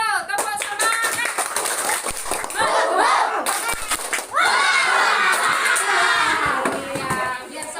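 Children clap along to a rhythmic spirit-clap cheer chant in a school lesson, with loud, fast, patterned clapping close by and excited children's voices shouting throughout.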